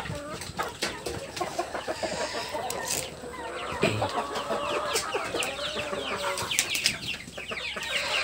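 Sick young chickens at a poultry farm cluck and cheep in a scattered, continuous chorus, close by, with some faint background talk and clatter.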